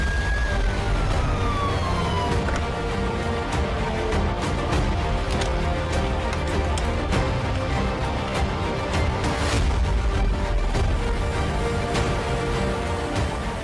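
An ambulance siren wails, loud and continuous, over a thick rumble of traffic noise, with a rising tone sweep near the start.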